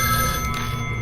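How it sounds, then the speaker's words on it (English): Short stretch of a phone's electronic bell ringing from an adjoining room in the Spirit Hunter NG video game, a sustained steady tone under low ambient hum, no speech. "Suddenly the phone from the next room rings."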